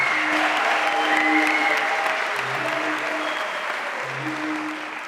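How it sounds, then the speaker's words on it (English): Audience applause at a University of South Africa spring graduation ceremony, loud and sustained, with faint tonal sounds over the clapping as it gradually fades toward the end. "give me a round of applause"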